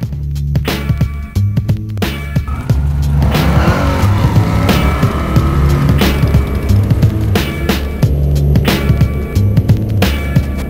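A 2015 Dodge Ram 3.0 diesel pickup with a peg-leg rear end launches hard from a standstill, a loud continuous engine drone with tire and mechanical noise and sharp clicks throughout.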